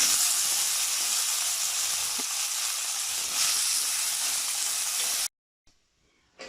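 Soaked chickpeas hit hot oil with bay leaf and cinnamon, giving a loud, steady, close sizzle that hisses on for about five seconds before cutting out abruptly, followed by near silence and a faint return.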